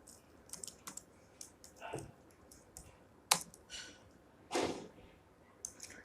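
Scattered keystrokes on a computer keyboard while entering a record into a MySQL table, sparse clicks with a few louder taps, close and quiet with no talking.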